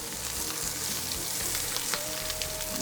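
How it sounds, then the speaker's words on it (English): Steaks turned on their sides sizzle in a pan with butter on the stovetop, a steady close frying crackle with faint stirring movement. "Now the next thing I like to do with these steaks is I'm actually gonna turn it on its side and cook the sides."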